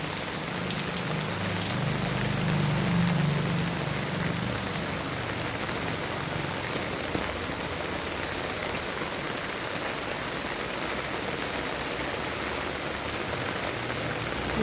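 Heavy monsoon rain falls steadily around a garden with a pineapple plant and water everywhere, a constant, even hiss of downpour with a brief low rumble early on and no voices.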